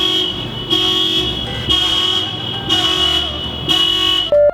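A car horn sounds in a series of long blasts, about five of them, loud and nearby in an outdoor bouldering area, with no voices.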